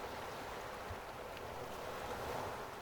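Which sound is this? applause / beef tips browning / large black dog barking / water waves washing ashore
water waves washing ashore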